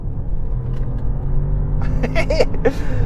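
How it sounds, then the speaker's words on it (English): Audi S8 with a twin-turbo 4-litre V8 pulling hard, a loud, close engine rumble building under acceleration, with a few sharper rising tones near the end. "Let's experience that twin turbo 4-litre V8, and it absolutely flies"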